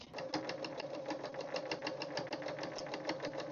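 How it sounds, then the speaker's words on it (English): A sewing machine top-stitches through a dish mat with a steady, quick run of needle strokes, close and moderately quiet, never pausing through the span. "So then we're going to top stitch right on our dish mat to hold that side back."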